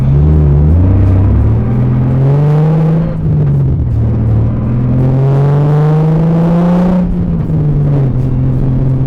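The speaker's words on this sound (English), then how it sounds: "It is definitely notably louder in here without all the insulation for the transmission." A Nissan 350Z on the road with its transmission insulation removed, a loud, close engine rumble with transmission whine that rises and falls through several gear changes, with noticeable dips between shifts.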